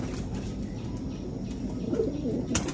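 A flock of over fifty pigeons cooing softly in low, rolling calls, with faint chirps and a quiet background hum.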